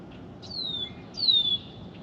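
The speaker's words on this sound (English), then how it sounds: "red-winged blackbird." A red-winged blackbird calls outdoors: two clear, high whistled notes, each sliding downward, the second louder, over a steady low background hiss.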